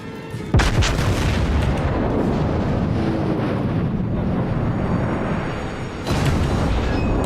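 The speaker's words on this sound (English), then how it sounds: "He is firing at me." Heavy naval gunfire from a battleship in World of Warships, a loud booming blast that gives way to a sustained rumbling roar, then another sharp impact near the end.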